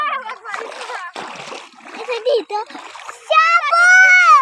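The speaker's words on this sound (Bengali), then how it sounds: "সবাই মিলে এখন ড্রেনের পানি দিয়ে পাড়া দিয়ে দিয়ে যাচ্ছি" People wading together through drain water in a neighbourhood make short splashy sloshes between bursts of children's and adults' chatter, close and lively.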